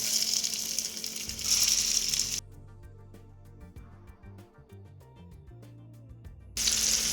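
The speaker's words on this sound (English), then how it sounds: "My pan is nice and hot. My oven is preheated to 375, so I just want to get these in and searing" Veal and ricotta meatballs sear in a hot pan, giving a loud, bright sizzle that stops abruptly partway through. A quieter stretch with light clinks follows before the sizzle returns at full strength.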